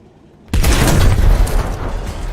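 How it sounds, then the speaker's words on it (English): A single loud, close blast as a naval gun fires at point blank range at a Sherman tank in War Thunder, sharp onset followed by sustained rumbling roar. "point blank with a 5 meter long naval gun, we just about hurt the driver of a Sherman"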